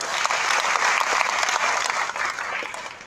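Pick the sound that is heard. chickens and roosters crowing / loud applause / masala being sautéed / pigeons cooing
loud applause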